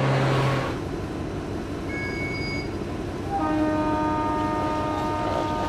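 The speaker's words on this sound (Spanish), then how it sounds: "El ferrocarril transmongol, que atraviesa todo el país" A train on the Trans-Mongolian Railway rumbles steadily, with sustained horn-like tones sounding over the rolling noise midway and toward the end; no voices.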